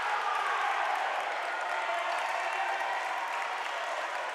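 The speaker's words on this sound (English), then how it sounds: "I like the way that cheering squad over there, they're cheering just for their team." Cheering squad and crowd at a high school volleyball game in a gym, a steady wash of applause and cheers at an even level throughout, with no clear voices standing out.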